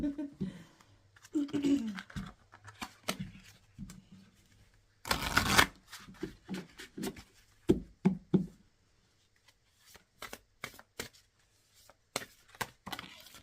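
Tarot cards being shuffled by hand come in short riffling bursts and soft taps, close and fairly quiet, with a brief louder flurry midway. A person speaks softly between the shuffles.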